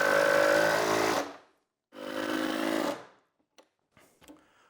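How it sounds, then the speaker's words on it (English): A power drill drives pocket screws into wood while a revolving tool station is being built, two sustained whirring bursts of about a second each, close and loud, followed by a few small knocks. "I'm just going to attach this portion to the bottom with pocket screws"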